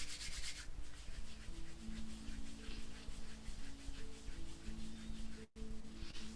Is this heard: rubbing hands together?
yes